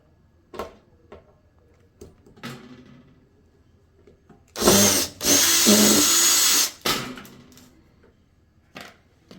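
Power drill spinning out small screws from the panel of a Samsung electric range, two loud whirring bursts mid-clip between quieter clicks and handling knocks, with brief talk nearby.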